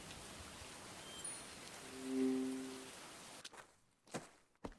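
Steady rain hisses through a mystery mobile game scene, soft and continuous, then thins out and leaves a few light thuds and pattering drops toward the end, with no voices.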